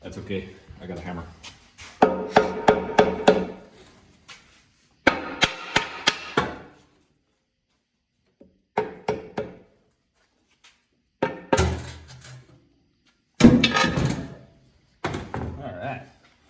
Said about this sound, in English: That's okay, I got a hammer.